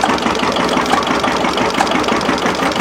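A small vertical two-stroke engine runs at an engine show, a steady close rattling putter with a fast even beat throughout the short stretch.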